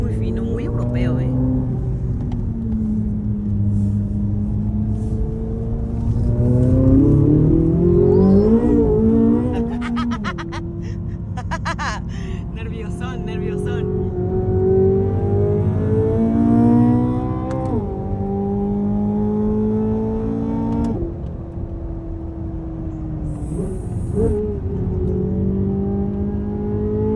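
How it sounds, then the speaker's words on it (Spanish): A General Motors car engine revs and accelerates in long smooth rising sweeps, fine and refined in tone, with someone talking over it throughout. "El sonido del motor es bellísimo. Muy fino, muy fino, muy europeo"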